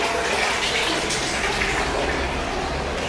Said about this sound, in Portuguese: Ainda não vou desligar a água ainda não